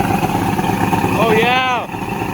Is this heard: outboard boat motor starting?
yes